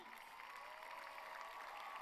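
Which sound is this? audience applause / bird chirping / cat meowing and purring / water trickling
audience applause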